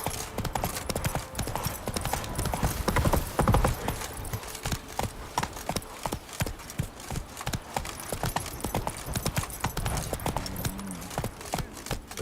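Roach, Geralt's horse in The Witcher 3: Blood and Wine, gallops with rapid rhythmic hoofbeats that are loud and close and continue for the whole stretch, with faint voices and game ambience underneath.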